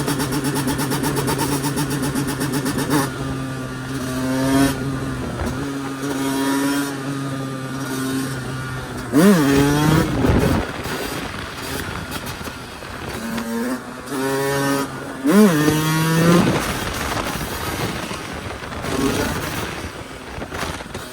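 A Yamaha YZ 125 two-stroke dirt bike is kicked to life, burbles at idle, then snaps through several sharp, rising revs that scream and drop back, heard close up and loud.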